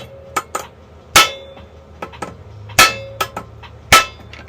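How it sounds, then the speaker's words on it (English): A brass hammer strikes a minibike governor part to knock it loose, giving three loud metallic clanks with ringing decay, spaced about a second apart, among lighter taps and clinks with no talk. "I'm gonna hit it with my brass hammer a couple times till I knock it loose."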